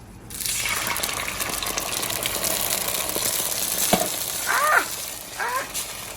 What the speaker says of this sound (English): Make sure that you lower your temperature before you pour your beans on there, or else you're gonna have a big splatter.